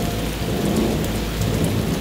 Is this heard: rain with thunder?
yes